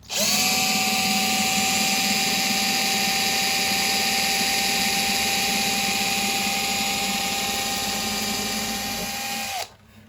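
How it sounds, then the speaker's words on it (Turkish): Close, loud power drill boring bridge holes into the carved mulberry wood body of a bağlama saz, a steady high whine for about nine seconds that stops abruptly. "Şimdi deliklerimi deleceğim ben. Eşik deliklerini deleceğiz."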